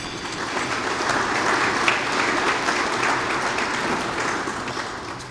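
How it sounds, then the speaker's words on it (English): Steady, dense audience applause greets newly commissioned officials at a port community gathering, a broad even roar of many hands that holds throughout and tapers slightly at the end. "Let's give them all a round of applause, please."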